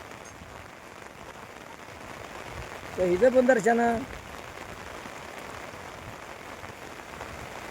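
Monsoon rain falling on surfaces in Konkan hill country, a dense, steady hiss throughout at moderate level, with someone speaking briefly over it midway.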